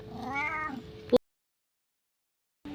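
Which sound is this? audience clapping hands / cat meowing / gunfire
cat meowing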